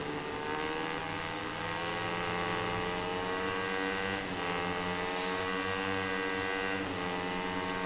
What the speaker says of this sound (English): I think I'm revving the gears a little bit too much.